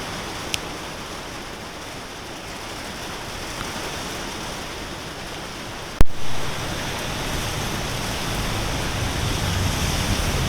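Steady heavy rain pours as a dense, even hiss with no voices, broken once by a sharp brief knock midway.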